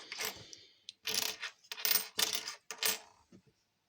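Old metal coins clinking and jingling as they are shuffled and handled, several bright bursts of rattling close up, then silence.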